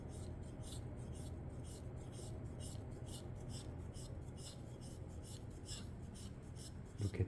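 Pencil lead lightly rubbed to a sharp point: close, soft, scratchy strokes in a quick, steady rhythm that continues throughout, with no talking.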